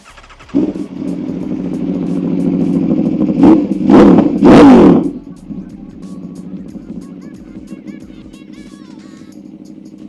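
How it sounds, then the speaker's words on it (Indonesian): An Aprilia RSV4 Factory superbike's V4 engine starts up close and idles with a deep throb, then two sharp throttle blips climb and snap back, before it settles into a lower idle. "Ini dia suara dari RSV4."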